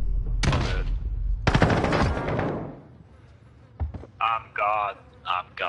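Gunfire in Call of Duty Modern Warfare, a Search and Destroy match: two loud, close bursts of shots with decaying echo fill the first half, then a quieter stretch follows, and a voice talks in short bursts near the end.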